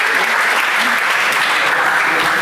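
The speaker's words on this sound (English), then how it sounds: "Let's give them an applause, please." Steady, dense applause from an audience honoring former strikers at a grape strike anniversary gathering, continuous throughout with faint voices mixed into the crowd noise.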